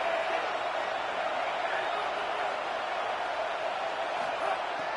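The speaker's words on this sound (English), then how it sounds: "Decibels rising as the crowd gets behind this defense on third down." Steady roar of a stadium crowd in a Madden football video game, a dense continuous wash of cheering on third down with no clear peaks, holding at a constant loud level throughout.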